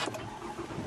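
A Lexus/Toyota car engine starts with a push-button ignition and settles into a steady mid-range running sound. It is close by and continuous through the short moment, with no talk.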